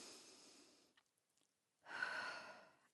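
An instructor breathing slowly and deeply, a soft close exhale followed by a pause and then a longer, louder breath, heard alone.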